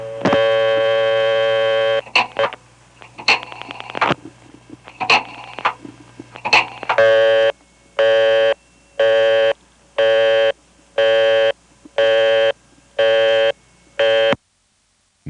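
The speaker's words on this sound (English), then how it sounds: "Next, dialing my own last 4 digits." Dialing the last four digits on a 1970s central office coin phone line: a steady tone, then bursts of clicks, followed by a series of about seven even, evenly spaced tone pulses, ending in a brief silence.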